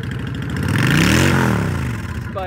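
A 2005 Honda VT750 Shadow Aero V-twin cruiser is revved up and back down, with a loud, close, throaty intake rumble that swells and then falls away.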